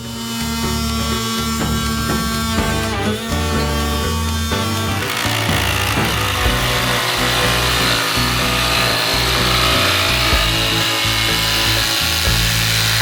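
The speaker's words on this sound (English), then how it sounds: "So we have cut it all the way through with a jigsaw" A jigsaw with a blunt metal blade cuts through a van ceiling, giving a loud, close, continuous buzzing rasp that roughens and intensifies partway through, with no talking.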